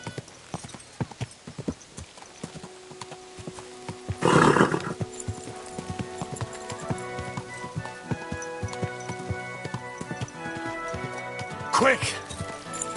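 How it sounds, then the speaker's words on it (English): Horse hooves clip-clopping in the medieval game Kingdom Come: Deliverance II, a steady clatter of steps throughout with a loud whinny bursting out twice, and a voice speaking over the riding. "Easy, good horse."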